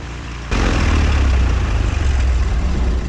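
A Beechcraft Bonanza A36 propeller airplane in flight gives a loud, steady low engine drone heard from inside the cabin, rising suddenly after a quieter opening.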